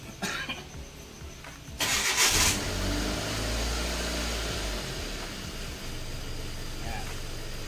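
After a quiet stretch with a faint voice, a Mitsubishi Lancer engine cranks briefly, catches, and settles into a steady low idle nearby.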